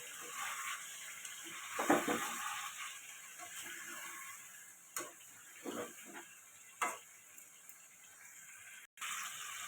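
Loitta fish being stirred gently in spicy masala in a pan, faint low sizzling with a few scattered clicks and scrapes of a spatula against the pan, quiet throughout.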